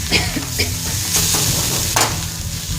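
Dried fish and coconut sambol sizzles steadily in a hot pan while a utensil scrapes and stirs through it in a few short strokes, close up, with no voices.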